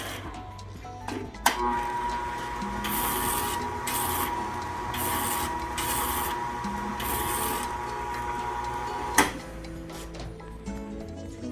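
Horizontal knife grinder with a surface grinder attachment runs steadily at close range, a continuous whirring, rasping hum with bursts of abrasive grinding as the workpiece passes, plus a couple of sharp knocks.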